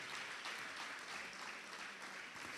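Audience applauding at a church youth conference, a steady, dense wash of clapping from a crowd that sounds distant and faint, with no talk over it.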